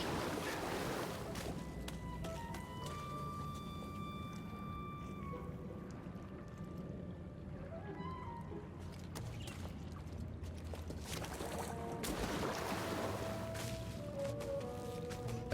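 Water in the Star Wars Jedi: Fallen Order video game, heard as a steady, even wash of lapping ambience with sustained musical tones drifting over it, and no voices.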